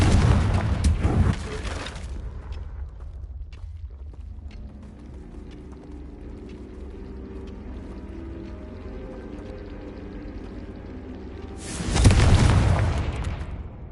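A Confringo fire spell explodes in the Hogwarts Legacy video game, with a loud burst of noise at the start, a quieter rumbling stretch, then a second strong booming blast near the end.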